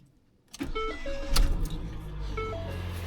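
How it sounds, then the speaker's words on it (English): A car engine cranks and catches after a jump-start from a battery starter pack, settling into a steady idle close by with a few clicks and clunks during the start. "Now what I'm going to do is start the car."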